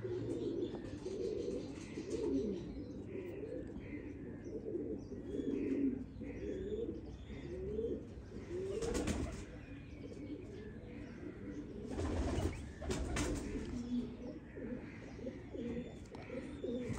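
Pigeons of a champion racing breed coo softly and repeatedly at close range, with chirps and a couple of brief bursts of wing flapping, under faint background voices.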